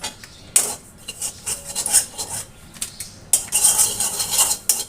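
Semolina is roasted in a pan while a metal spoon stirs and scrapes, giving bursts of bright clinks and scraping strokes that come and go in irregular rhythm, close and fairly quiet, without talk.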